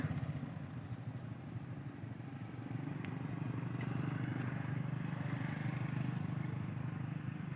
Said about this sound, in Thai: บนสะพานดำจะเห็นชาวบ้านขี่รถเครื่องนะคะ